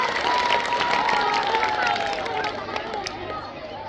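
Applause and crowd noise from an audience at a school Independence Day performance, a steady broadband clatter of many hands across the whole stretch, with a voice carrying over it and easing slightly toward the end.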